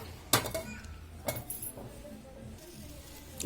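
A cooking pot is set down on a stove to make a tempering, giving a sharp metallic clink and then a second clunk a second later, with lighter rattles after it in a quiet kitchen.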